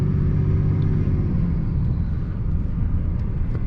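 Cummins diesel truck with a six-speed manual pulling in second gear, a deep, continuous engine rumble heard from inside the cab, steady with slight swells and no talk.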